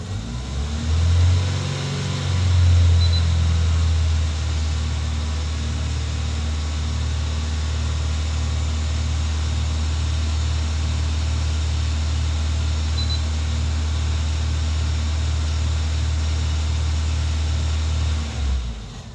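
Vauxhall Tigra engine held at fast idle during a catalytic converter replacement, a steady, close, droning hum with a slight rise near the start and a rhythmic pulse throughout; no talk.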